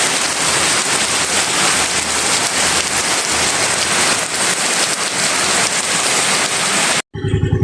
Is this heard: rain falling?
yes